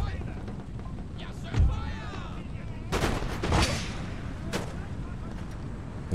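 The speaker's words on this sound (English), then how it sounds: "We'll do it after we put one volley into them." Infantry in Empire: Total War fire a musket volley, a loud crackling burst followed by scattered booming shots, with a voice speaking faintly before it.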